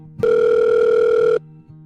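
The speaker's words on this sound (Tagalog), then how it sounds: "Ilang sandali pa ay biglang nagring ang cellphone ni Vin" A mobile phone rings with a loud, steady electronic tone that holds for about a second and then cuts off abruptly, close and clear against a quiet room.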